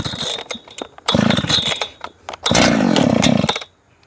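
A Husqvarna 3120XP chainsaw with a six-foot bar is pull-started with the decompression valve out and the choke on, giving a few rough, loud bursts of engine roar broken by short gaps, close by.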